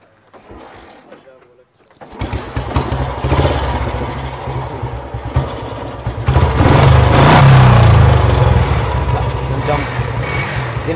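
Old 1996 Royal Enfield Bullet motorcycle with a starting problem fires up after a quiet moment, then settles into a loud close thumping single-cylinder idle that swells with a rev, while someone talks over it.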